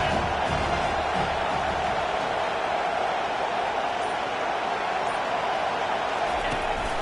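Stadium crowd roaring during a college football third down, a dense, steady wall of cheering and noise that holds at full loudness throughout with no breaks.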